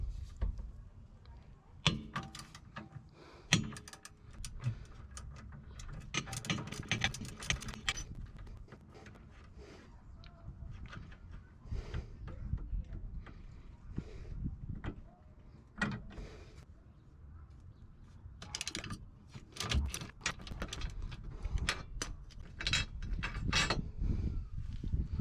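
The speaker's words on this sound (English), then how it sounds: "We're going to be undoing this nut and this nut right here for the sway bar end link." Wrench working the 14 mm and 12 mm nuts and bolts off the sway bar end links on a 2020 Subaru WRX, with irregular metallic clicks, clanks and rattles in close bursts and no talking.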